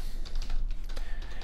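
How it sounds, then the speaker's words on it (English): Rapid keystrokes clatter on a computer keyboard in quick, uneven bursts, close and clear with no talking over them. "is as simple as typing easygui download"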